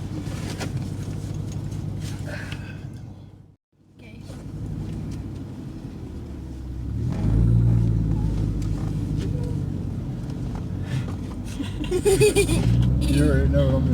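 A Ford Mustang GT fitted with 4.10 gears rumbles steadily from inside the cabin, its engine swelling louder as it accelerates, with passengers chattering and laughing over the drone.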